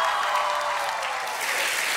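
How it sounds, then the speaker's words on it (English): Audience applause fills the room at a comedy show, a steady dense wash of clapping from a crowd with no voices over it. "See, y'all clapped it up."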